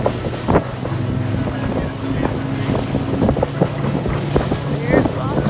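A motorboat crosses a sandbar near Foss Island, its engine droning steadily under heavy wind buffeting the microphone, with water slapping and splashing against the hull throughout.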